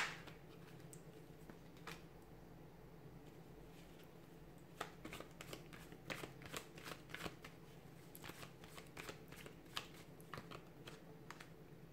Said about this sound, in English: give the cards a shuffle